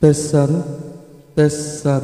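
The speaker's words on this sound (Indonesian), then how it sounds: "Lebih ada gema, ada gaung ya. Jadi cocok untuk karaoke." Karaoke-style echo and reverb on a voice through a V998 soundcard, two short spoken phrases with a lingering, ringing tail that hangs between them.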